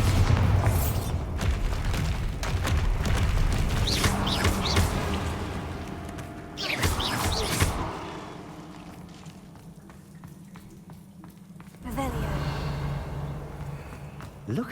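A Bombarda explosion spell goes off in Hogwarts Legacy: booming blasts amid game ambience, with a sharp loud burst midway, quieter rumbling stretches and another heavy boom near the end.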